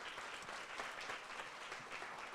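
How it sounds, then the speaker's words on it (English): Faint, dense applause from an audience at a live panel discussion, a continuous even wash of clapping heard at a distance. "Let's give our panelists a warm round of applause."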